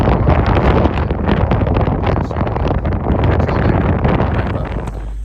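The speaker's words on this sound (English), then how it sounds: "with the wind cranking, the wind chill will be in the teens" Strong wind roars steadily into the microphone on the Pacific Crest Trail, a dense, continuous buffeting blast that stays loud and unbroken throughout, easing only slightly at the very end.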